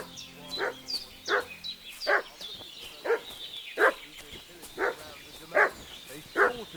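A dog in the video game Kingdom Come: Deliverance 2 barks repeatedly at a steady pace, about eight sharp woofs at medium distance, loud and agitated.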